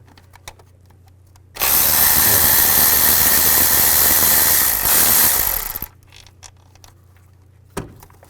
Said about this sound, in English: Now we're going to take the nuts and bolts out for the intake. Use a 10mm socket.